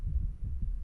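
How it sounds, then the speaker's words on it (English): Heartbeat sounds in the Minecraft video game: soft, low, muffled throbbing pulses that repeat steadily at close range with no talking. "I hear the heartbeats"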